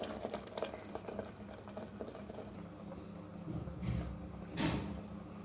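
Faint running water pours steadily into a pot of fenugreek gravy, with soft splashes and kitchen clatter in the background.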